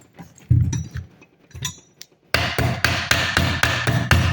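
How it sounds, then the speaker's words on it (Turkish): A hammer taps the screw housings of an electric three-wheeled motorcycle's motor cover, first a few scattered knocks, then a steady run of about eight sharp, close metallic blows. "Şurada vida yataklarını yavaşça tıklamamızla bu kapak açılacaktır."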